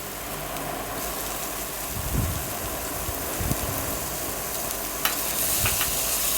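Chopped onion and tomato sauté in oil with a dense, rain-like sizzle throughout, punctuated by occasional low knocks of a spatula against the pan; nobody talks.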